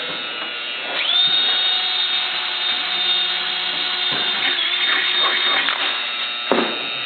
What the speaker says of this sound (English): so we're going to do the rivets here. So I've got my drill bit in here.